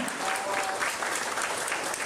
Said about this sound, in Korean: 따뜻한 박수 환영해 주시면 고맙습니다.